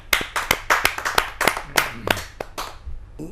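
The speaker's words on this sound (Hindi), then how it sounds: "आपकी जोरदार तालियां मिले श्री रामबरन ओझा जी" A small kavi sammelan audience claps for a poet, sparse and irregular hand claps, a few sharp near strikes at a time, loose in rhythm and thinning out toward the end.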